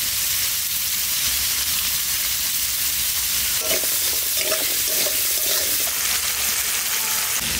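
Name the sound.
potatoes frying in a pan with salt and turmeric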